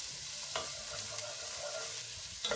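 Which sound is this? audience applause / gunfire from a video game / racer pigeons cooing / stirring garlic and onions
stirring garlic and onions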